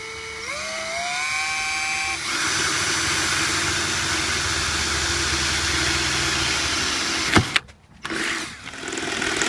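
Power drill boring a screw hole into a car body while installing a CB radio antenna mount, whining up in pitch at the start and running steadily for several seconds before a sharp stop and brief clatter.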